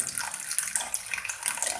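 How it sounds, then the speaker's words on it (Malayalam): Water pours steadily into a bowl in a short continuous splashing stream, close up and fairly loud, with no voices. "കുറച്ച് വെള്ളം ഒഴിച്ചു വെച്ചു"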